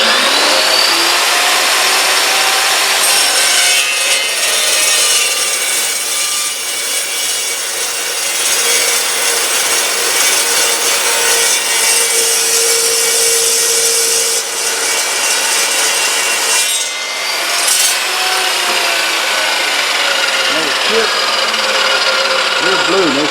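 An Evolution EVOSAW380 saw cuts through metal with a loud, continuous, high-pitched grinding rasp that holds steady for over twenty seconds, with a brief dip near the end.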